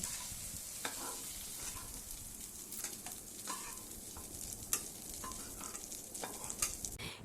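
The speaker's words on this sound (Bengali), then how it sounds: "1 থেকে 2 মিনিট সময় নিয়ে একটু ভেজে নিয়ে আমি চিংড়ি মাছটা তুলে নেব" Shrimp frying briefly in oil in a pan, a continuous close sizzle with intermittent scraping and stirring taps throughout, no one speaking.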